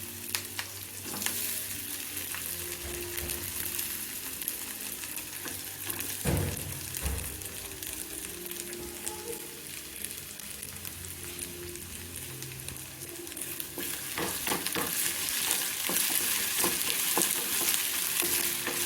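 Fried potatoes and onions tipped into a hot pan for an okra and potato curry, then stirred, with a steady sizzle, scraping and clinking of the spoon, and a sharp thud partway through.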